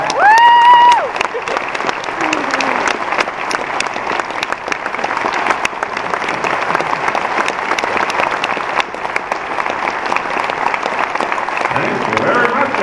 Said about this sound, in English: Give that applause going for my good friend, Mr. Shaky.